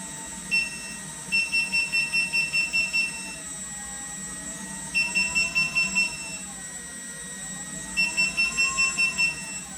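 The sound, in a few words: beeping warning tone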